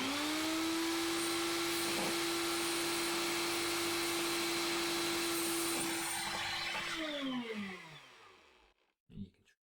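Power saw blade spinning up while cutting model ship gratings for a 1/84 HMS Victory, a steady high whine running for several seconds before winding down, followed by a short knock near the end.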